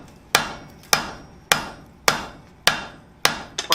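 Hot steel for a flower coat hook is hammered over an anvil horn, six sharp ringing metallic blows at an even, unhurried rhythm, each decaying quickly, close and loud.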